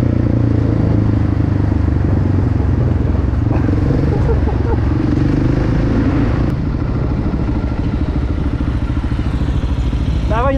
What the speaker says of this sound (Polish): Dobra, pojadę motorem.